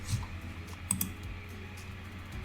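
Keys tapped on a computer keyboard during an HTML coding lesson, a steady run of quiet close clicks with a couple of louder strikes, no talking.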